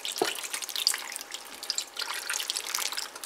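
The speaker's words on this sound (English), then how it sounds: "now we are just going to pour back in that pineapple juice that we drained off" Pineapple juice is poured over meatballs in a cooking pot, a soft, faint splashing and trickling with scattered drips and no talking.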